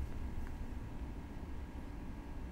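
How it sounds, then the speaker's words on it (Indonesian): A low, steady hum of machine noise fills the room, like an air conditioner and computer fans running, faint and unchanging throughout. "harusnya yang ke pick up itu cuman suara AC gua atau suara PC gua"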